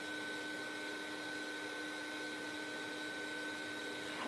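A heat gun blows with a steady, continuous whir and a faint high whine, constant in level throughout, with no talking.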